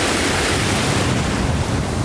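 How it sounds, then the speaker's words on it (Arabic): Ocean waves on a beach in Krabi, Thailand, heard as a continuous loud roar of surf mixed with heavy wind buffeting the microphone, no voices. "وميزة هذا الشاطئ انه الموج مو كتير، فالسباحة فيه اسهل"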